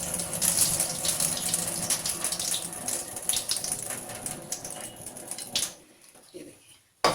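Water being poured off washed lentils for sambhar, a steady close splashing and running stream that thins out and stops near the end, leaving brief quiet before a final knock.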